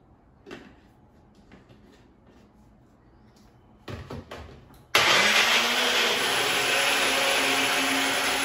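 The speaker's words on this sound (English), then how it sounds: "use the food processor to grate it" A few light clicks and clunks come first, then a food processor motor starts with a loud, steady, high-pitched whir as it grates onion, running nonstop to the end.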